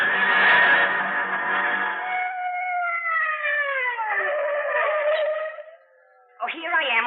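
Police car siren in a radio drama, a loud wailing tone sweeping up and down with an echoing, processed quality, cutting off briefly before a final rising wail.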